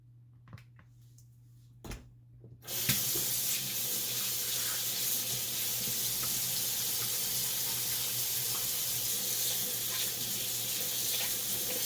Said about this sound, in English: So we just rinsed my hands here.